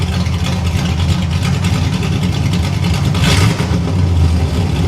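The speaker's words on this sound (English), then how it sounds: "Hey, can you go in there and rev it?" Engine of a 1989 Pontiac Trans Am GTA recovered from a junkyard, running loud and close with a brief blip of revving midway over a rough, steady idle.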